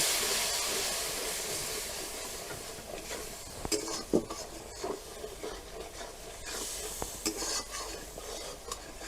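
Kashmiri chili powder and spices being sautéed with a splash of water while jackfruit and prawns are cooked, a steady soft sizzle and hiss with intermittent scraping stirs of a spoon in the pan.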